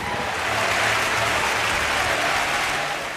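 A concert audience gives a fervent ovation after a Beethoven performance, a thick, continuous roar of clapping that swells slightly and stays loud throughout.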